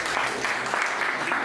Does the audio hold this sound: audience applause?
yes